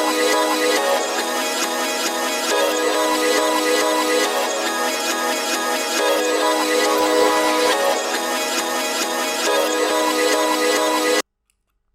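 A chopped music loop played reversed and pitched up, dense and continuous with choppy stutters, running loud for about eleven seconds before cutting to silence.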